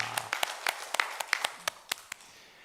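A congregation in a Korean church claps in praise to God, a sparse scattering of roughly a dozen sharp hand claps over about three seconds, fairly close and irregular, with no voices over them.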